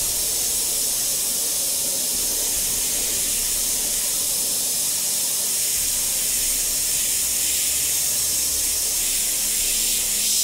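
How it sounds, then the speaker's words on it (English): An airbrush or spray can mists paint onto a Grim Reaper skull model, giving a continuous close, loud hiss that stays steady throughout. "just trying to limit my overspray on the actual Reaper skull"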